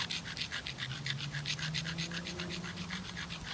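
Steady back-and-forth rubbing and rasping of a non-carbide abrader against the edge of a rock, forming a continuous rhythmic scraping with no talk.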